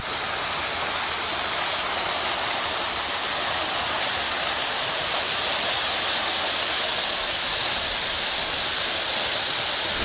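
A loud, constant rush of falling water from Baklao Falls fills the whole stretch, dense and unbroken, swollen by rainy-season flow.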